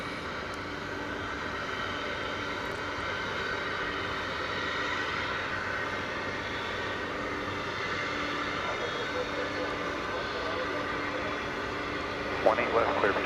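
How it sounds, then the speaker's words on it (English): A trijet airliner's engines at DFW Airport give a continuous distant roar and hum at night, steady throughout with a faint tonal drone, and a brief clatter near the end, no speech. "What a beautiful trijet"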